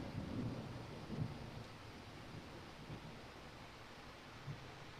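Distant thunder rolls low and faint beneath a steady wash of rain, a few soft rumbling swells over several seconds with no voices.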